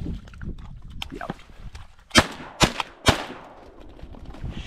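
Shotgun shots during a duck hunt in South Dakota, three loud sharp blasts in quick succession after scattered softer sounds and movement.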